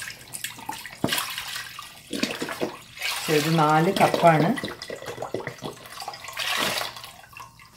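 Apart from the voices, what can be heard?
pouring chicken stock into a pot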